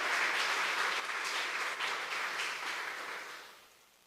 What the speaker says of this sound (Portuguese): Dá uma forte salva de palmas a Jesus aí.